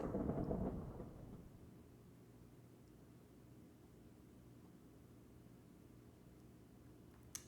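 A thunderclap from a summoned lightning strike in Minecraft rumbles low and heavy for about a second, then fades into a long, quiet hiss.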